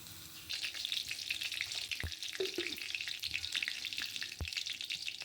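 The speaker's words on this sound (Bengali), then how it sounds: "এবার ডাঁটা ভাজছি।" Oil sizzles steadily as vegetable stems fry in a pan, a bright crackling hiss with a couple of soft knocks from stirring.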